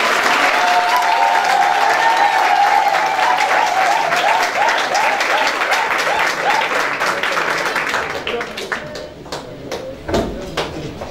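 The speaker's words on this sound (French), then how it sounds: "je demande qu'on applaudisse très très fort" Wedding guests applaud the newlyweds, a loud sustained burst of clapping from a large crowd with some rhythmic unison claps and a murmur of voices, thinning to scattered claps near the end.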